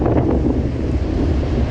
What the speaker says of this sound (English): It's extremely windy out there.